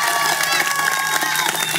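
A crowd at a religious lecture breaks into dense, sustained clapping with scattered cheers and shouts throughout the short burst.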